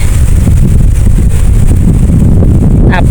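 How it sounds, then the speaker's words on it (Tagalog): Loud, constant wind roars against the microphone throughout on an open rural road between Baco and Naujan, Oriental Mindoro, a dense low rumble with no letup. "Tapos may mga simoy ng hangin."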